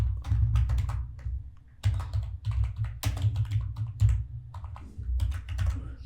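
A computer keyboard being typed on steadily, with quick close-up clicking keystrokes over a low background hum while a short phrase is entered.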